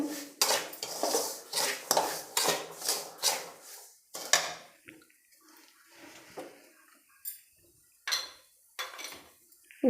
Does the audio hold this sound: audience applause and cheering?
no